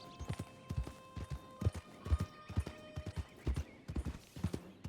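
Horse hooves clip-clop at a steady trotting rhythm in Red Dead Redemption 2, a close, clear run of paired hoofbeats carrying on throughout with no speech.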